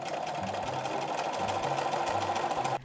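A sewing machine stitches a sleeve cuff seam in one steady, fast run of close, even stitching that stops sharply near the end.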